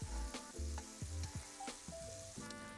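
Shrimp frying in a pan, a steady close sizzle with soft bubbling and a few light clinks and scrapes, no voices.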